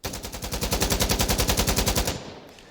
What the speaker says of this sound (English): If I shoot this full auto while controlling it without focus, not too bad.